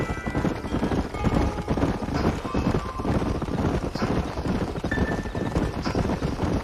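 Several horses trot together in Red Dead Redemption, a dense continuous clatter of hooves on a dusty canyon trail, close and fairly loud, with faint tack jingling.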